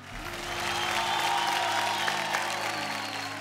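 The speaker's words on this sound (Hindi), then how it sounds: "जोरदार ताली।" Loud, sustained applause from a crowd at a Bhojpuri singing competition show, a dense steady wash of clapping that holds across the whole stretch with no speech over it.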